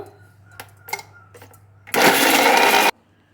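A mixer grinder whirs loudly for about a second, grinding masala with fennel seeds and rock salt, after a few light clicks and taps as the jar is set in place.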